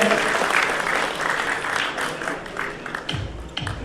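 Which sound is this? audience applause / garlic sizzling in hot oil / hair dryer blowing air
audience applause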